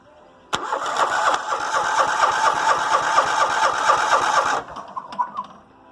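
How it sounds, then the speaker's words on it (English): A small engine on a secondhand lawn mower cranks on its jumped starter, giving a close, rapid rhythmic chugging that runs about four seconds without catching, then cuts off, followed by a few faint clicks. "Try to jump this starter and see if we've got spark."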